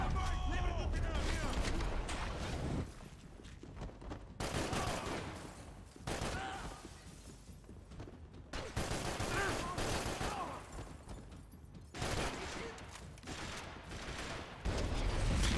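Heavy gunfire in Max Payne 3, a sustained fusillade broken into long bursts with brief lulls between them, and game voices shouting over it.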